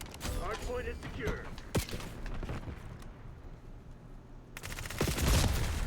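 Video game gunfire rings out in a shooter match involving the Grekhova pistol, with short loud volleys and single shots scattered across the stretch, a voice talking partly over them.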